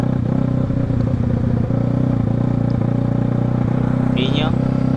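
A motorcycle engine drones steadily close by, with a brief rising whine near the end, under excited talking voices.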